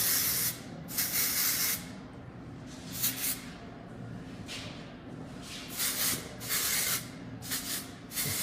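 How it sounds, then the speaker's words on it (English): Dry texture hair spray (Refinish) hissing from an aerosol can during a textured pixie haircut, several short bursts of spraying spaced a second or two apart, close and fairly loud against a low background hum. "texture spray. This is called Refinish."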